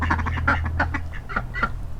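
A male mallard duck gives a series of raspy, low quacks in short bursts, close and fairly loud over a steady low background hum.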